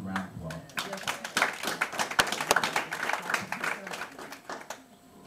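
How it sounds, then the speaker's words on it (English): A small congregation at a church service claps for the elders, with scattered, uneven hand claps of varying sharpness and voices talking underneath. "we give all the elders a round of applause"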